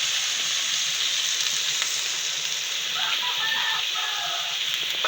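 Pancit canton and bihon noodles with cabbage stir-fried in a pan, giving a steady, close sizzle with light scraping and clatter from stirring, continuous throughout.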